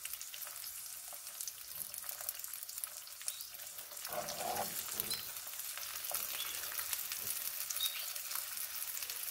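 An egg fries alongside tomato in a pan with a steady, close hiss of sizzling fat that crackles through the whole stretch, swelling slightly louder partway through as something is stirred or moved, with no voices.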